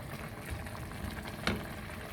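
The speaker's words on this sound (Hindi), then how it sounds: "इसका जो दही का जो पानी था वो उबल रहा है" Yogurt water boiling in a cooking pot while making saag, a steady low bubbling simmer with one brief clink or scrape partway through, close and fairly quiet.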